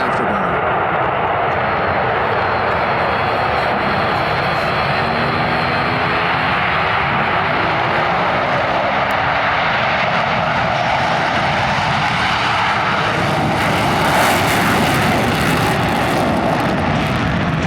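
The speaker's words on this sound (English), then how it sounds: "Bryan calls smoke on, off, brakes now, burners ready now, and the Blue Angel Diamond is rolling." Roaring jet engines of the U.S. Navy Blue Angels diamond formation passing in afterburner at an airshow at MCAS Beaufort, South Carolina, a loud continuous rumble that swells slightly near the end, with a commentator's voice underneath.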